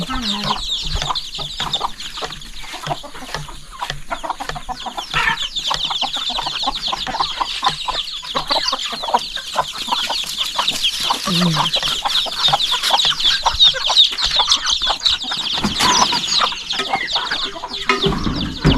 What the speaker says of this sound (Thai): เป็ดไก่